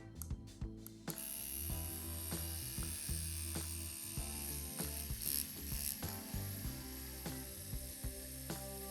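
A tattoo machine powered by an InkClaw Phoenix wireless battery power supply runs with a rapid mechanical buzz and ratcheting clatter, starting after a few sharp clicks and continuing steadily and close up, with no voices.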